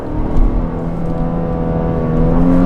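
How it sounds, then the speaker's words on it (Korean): A Genesis GV70 2.5T engine whines and hums steadily, its pitch rising gradually as it accelerates, heard from inside the vehicle with no talking. "엔진 사운드는 조금 듣기 계속 앵앵거리니까 상당히 좀 듣기는 거슬리고"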